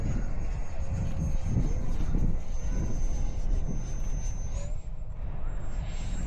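Freewing F-22 radio-controlled model jet with a roughly 80 mm ducted fan flying at an RC field on a dreary afternoon, a steady whining engine tone with a pitch shift as it passes, under rumbling wind noise.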